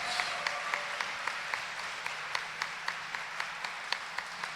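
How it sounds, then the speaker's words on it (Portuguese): A church congregation applauds with steady, rhythmic clapping, faint and somewhat distant, continuing evenly throughout. "Dê uma salva de palmas para ele, minha gente."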